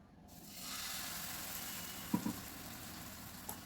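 Ghavan batter is poured onto a hot griddle over medium gas and sizzles in a steady, broad hiss that starts abruptly and holds, with a couple of faint taps partway through.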